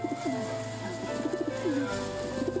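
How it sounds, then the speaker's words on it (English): A rock pigeon coos in soft, repeated rolling phrases over a steady low hum, with no one speaking. "The rock pigeon."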